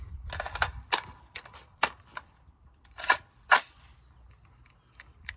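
Suppressed PSA 300 Blackout rifle firing AAC subsonic rounds, several sharp close cracks with a metallic action clack, irregularly spaced between quiet gaps.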